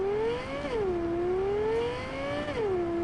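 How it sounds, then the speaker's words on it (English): A sports car engine from the video game Cyberpunk 2077 revs steadily, its pitch climbing, dropping as gears shift, then climbing again, loud and close with no talking. "It's a Bugatti Veyron meets an Aventador."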